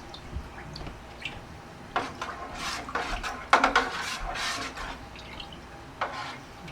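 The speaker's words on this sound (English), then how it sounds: "let's take a spoon and stir it around" A spoon stirs freshly primed Irish red ale in a plastic bottling bucket, giving soft liquid swishes with light clinks and scrapes against the walls, close and moderate, without any talking.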